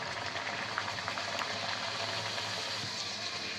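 A single puri sizzling in hot oil in a home kitchen, a steady close bubbling and crackling hiss that stays even throughout.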